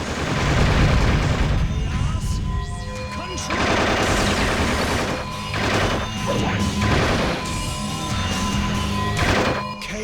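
Rapid gunfire in the Shadow the Hedgehog video game, dense bursts of shots and crashes layered over loud game music, continuous and close throughout.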